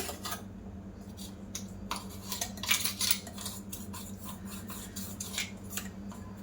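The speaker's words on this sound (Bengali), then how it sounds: "এবার ভালো করে মিশিয়ে নেব" A spoon stirs cupcake batter in a bowl, with flour and crushed Oreo biscuit going in, making steady scraping and light clinking strokes close by, with no talking.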